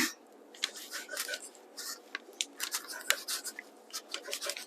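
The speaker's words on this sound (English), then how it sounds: "And I'm going to cut this again." Scissors snipping through a hot pepper roti, a rapid run of crisp cutting snips at uneven pace, close and clear over a quiet background.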